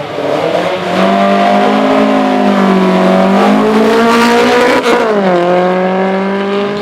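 Lotus Elan, a 1963-era steel-backbone soft-top, races up the Shelsley Walsh hillclimb, its engine loud and close, revving hard with rising and falling pitch through gear changes for the whole run.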